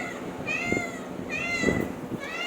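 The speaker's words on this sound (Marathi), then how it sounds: "त्या मांजरीचा काय प्रॉब्लेम आहे, जेव्हा मी आणि संतोष खाली येऊ ना तेव्हा" A cat meows three times in a row, close and clear, each a rising and falling cry spaced about a second apart over faint household background noise.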